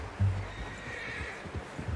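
A horse neighs loudly up close in Red Dead Redemption 2, one short whinny near the start followed by snorting, shuffling and hoof sounds.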